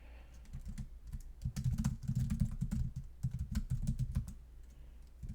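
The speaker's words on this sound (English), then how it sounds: "So let's type that out." Steady typing on a computer keyboard, close and fairly quiet, with rapid irregular key clicks running in bursts with brief pauses.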